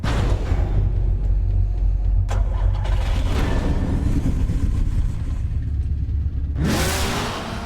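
A car engine from Batman The Telltale Series video game starts, rumbles and revs steadily for several seconds, then surges to a sharp, loud acceleration near the end.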